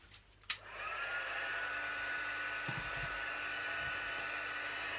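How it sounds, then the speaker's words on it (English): A craft heat gun for card-making embossing clicks on, then blows a steady, even whir that holds at constant loudness to the end. "heat up my heat gun"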